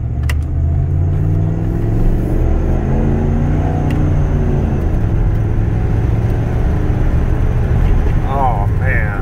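A 1992 Ford F-150 XLT pickup with a long bed and red cab rumbles steadily while driving, its engine droning loud and close with a slight swell in revs near the end.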